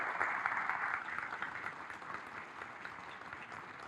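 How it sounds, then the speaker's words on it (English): A round of applause fills a school dedication ceremony: dense, steady clapping from a seated audience that stays full and even throughout, fading only slightly toward the end. "Let's give them a round of applause."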